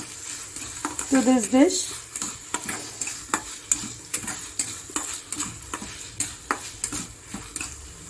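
Garlic and spinach frying in a pan for a spinach fry, with a steady sizzle under repeated scrapes and clinks of a utensil against the pan, and a brief spoken phrase partway through.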